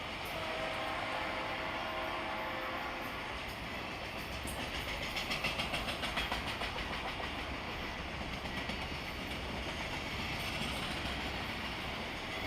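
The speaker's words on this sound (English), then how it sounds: "P12 is an all-auto rack train which brings new Toyotas to the distribution center at Commerce, Georgia." A long Norfolk Southern autorack freight train carrying new Toyotas rolls steadily past nearby, wheels clacking rhythmically over rail joints amid a continuous metallic rumble and squeal.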